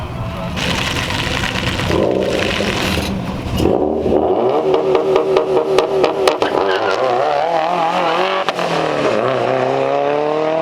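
An Infiniti Q50 launches on a quarter-mile run at a tuning track day: the engine revs hard and rises through rapid gear climbs, loud and close, with road and wind noise around it.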